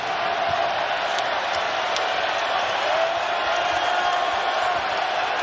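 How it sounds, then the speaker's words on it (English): A basketball arena crowd at an NCAA men's game between Iowa State and Arizona roars in a steady, loud wash of cheering that holds evenly throughout. "This crowd coming to life."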